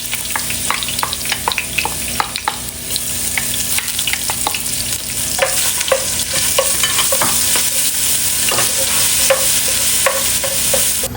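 Ginger, garlic and green chili paste frying in oil for a chicken curry, with a steady close sizzle and frequent spatula scrapes and taps against the pan, loud and continuous, with no talking.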